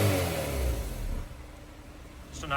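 A Honda S2000 fitted with a UK-spec exhaust mod revs hard, a loud, close engine roar that eases off and then rises again near the end, with no talk over it.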